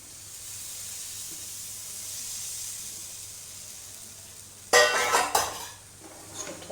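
A covered cooking pot of boiled peanuts is shaken in a home kitchen, a sudden burst of rattling and clattering after a stretch of quiet hiss, then a few smaller shakes trailing off.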